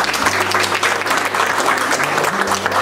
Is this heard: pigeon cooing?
no